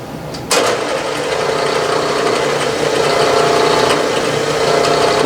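A drill bores a 1/8 inch hole for a wrist pin in a vertical steam engine part, starting with a sharp onset and then running as a loud, steady whine without speech.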